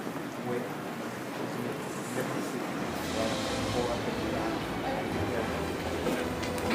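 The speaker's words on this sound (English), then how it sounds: "Then they hop on the metro to Schumann Station" A Paris metro train rides toward Schuman station with a steady, loud rumble and rattling roar that holds constant throughout, swelling slightly partway through as the carriage rolls on.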